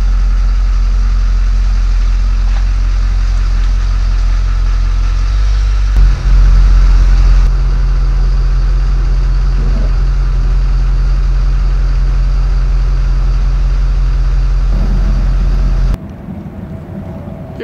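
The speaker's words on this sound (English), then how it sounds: "We have this 1998 Formula 34 PC with two brand new engines" Twin brand-new engines on a 1998 Formula 34 PC express cruiser idle steadily on the water, a loud continuous low rumble that swells briefly partway through and then drops away near the end.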